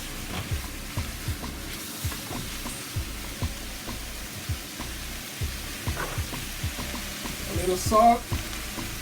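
Beef mince fries in a pan for a jerk beef lasagne, giving a faint, steady sizzle with small crackles and pops throughout, and a brief voice speaks near the end.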